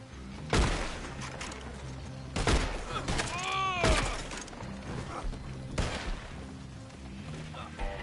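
Gunfire in the video game Red Dead, a few sharp loud shots spaced several seconds apart, each cracking over a background bed of game ambience, with a ricochet-like whine in between and a voice speaking faintly under it.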